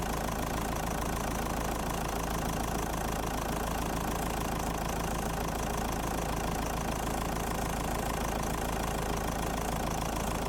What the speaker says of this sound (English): So I'll turn the engine off now